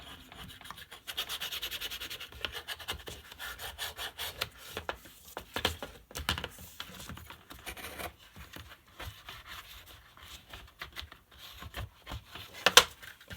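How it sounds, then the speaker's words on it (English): A bone folder is rubbed firmly over paper on a mini suitcase pop-up book, making quiet, close scratchy strokes that repeat in uneven bursts with short pauses. "Grab your bone folder. Make sure you burnish it down real good."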